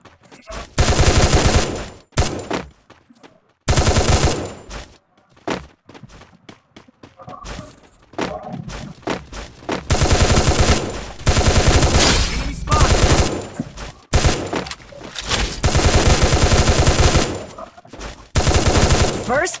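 Bursts of rapid automatic gunfire from a gun in the video game Free Fire, loud and close. Long sustained volleys alternate with short gaps and a few single shots, and there is no talk over them.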